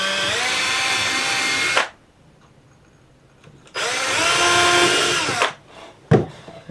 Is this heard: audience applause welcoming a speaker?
no